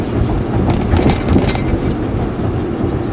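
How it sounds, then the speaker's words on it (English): Railroad train rolling past on the tracks at close range, a steady loud rumble with rhythmic wheel clatter filling the whole stretch, no talk over it. "Train."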